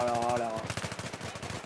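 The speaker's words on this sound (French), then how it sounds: "J'entends des tirs, mais je vois personne." Automatic gunfire in the shooter game Battlefield 3: a rapid, rattling burst of shots that starts after a brief voice-like tone and carries on steadily to the end, fairly loud and close.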